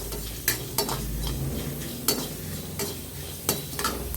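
Dried red chillies and coriander seeds roasting in a pan, stirred with a ladle: a continuous dry rustling sizzle broken by several sharp scrapes and knocks of the spoon against the pan, close and fairly loud.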